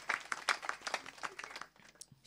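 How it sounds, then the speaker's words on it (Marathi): A kirtan audience claps, quick fairly faint hand claps in a loose rhythm over roughly two seconds. "दादा करता जोरदार टाळ्या वाजवा एकदा महाराज."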